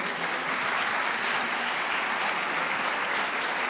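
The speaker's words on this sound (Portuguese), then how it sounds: "Dê uma salva de palmas para você." A church congregation applauds during a worship service, a dense, even burst of many hands clapping at once, full and sustained for a few seconds.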